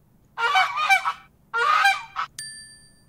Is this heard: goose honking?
yes